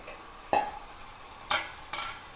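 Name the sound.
chopped onions, shallots and tomatoes frying in pan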